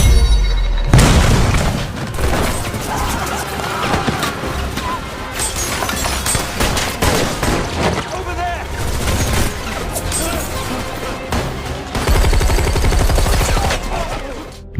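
Film action scene with loud, dense gunfire and booming explosions, continuous rapid shots and crashes throughout, close and intense, with some voices mixed in.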